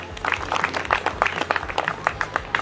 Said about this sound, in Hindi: तो अजनबी जी के लिए जोरदार तालियां बजा दें।